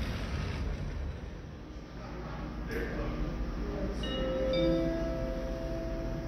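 A train rumbles steadily into a platform at Nürnberg Hauptbahnhof, a low continuous roar with faint squealing tones rising near the end.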